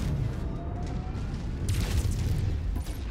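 A big explosion in the MechWarrior 5: Mercenaries video game rumbles through dense combat noise, with a heavy deep blast swelling midway over continuous low mechanical roar and scattered crackling.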